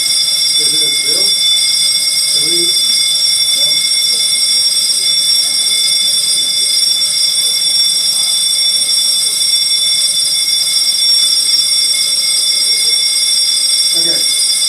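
A building fire alarm sounds continuously with steady high-pitched tones, loud and unbroken throughout, while people talk quietly underneath it during a false alarm.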